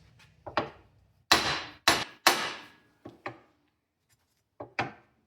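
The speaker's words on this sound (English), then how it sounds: "with your hammer, you're going to want to hit the end of the U-joint cap" A hammer strikes the end of a U-joint cap in the front axle yoke of a Dodge Ram 2500/3500. About nine sharp, close metallic blows land in irregular single and paired hits with short ringing decays, and nobody speaks.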